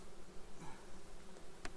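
Honeybees buzzing around an opened hive, a dense steady drone filling the clip close to the listener, with a faint tick near the end and no voices.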